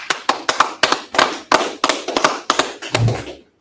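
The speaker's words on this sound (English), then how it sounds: "All right, clap it up." Hands clapping at a Sabbath service, about a dozen sharp, evenly spaced claps in a steady rhythm, close and loud, ending with a brief low thump.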